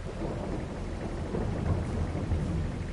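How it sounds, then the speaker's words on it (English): Rain falls steadily with low rumbling thunder in a farming video game on PS4, a continuous hiss and deep roll that holds evenly for a few seconds with no speech. "Because of course it's going to start raining."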